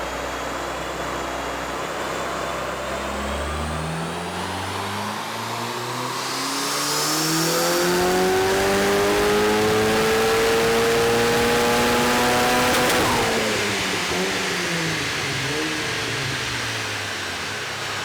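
Zewspeed sleeper Ford Escort revving up hard on a dyno, the engine note climbing steadily in pitch to a loud sustained peak before dropping back sharply, close and with no talking.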